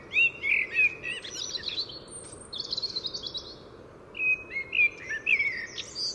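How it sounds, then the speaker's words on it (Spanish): A blackbird sings varied, fluting phrases with pauses between them, clear and moderately close from a home window, over a soft, steady background rumble. "un mirlo en la ventana de casa"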